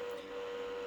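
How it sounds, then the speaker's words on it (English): A steady mechanical hum with a constant whining tone drones on without change from a TIG welder's water cooler running nearby. "It's just a water cooler for the TIG welder."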